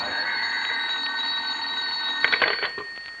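An old-time radio drama telephone rings at home, a steady electric bell tone lasting several seconds with a brief rattling burst near the end, no voices.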